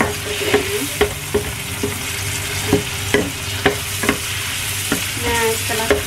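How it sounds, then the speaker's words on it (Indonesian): Shrimp stir-fried in a wok for a Chinese-style shrimp and vegetable dish sizzle steadily while a spatula scrapes and clanks against the metal in repeated sharp strokes, close and loud with no talking. "Terus masukkan udangnya."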